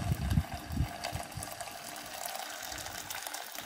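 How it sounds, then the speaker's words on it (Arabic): Boiling water is poured over cow trotters in a pot, starting with a few heavy splashing gushes and settling into a steady, softer pour, close by with no talking. "هننزل بقى عليه بميه مغليه، ولازم تكون الميه مغليه علشان الكوارع تستوي كويس"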